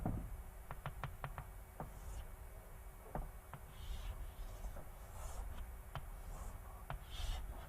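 Marker or chalk strokes drawing a green box on a board, a run of quick scratchy taps and rubbing squeaks up close, irregular but steady, with no talking.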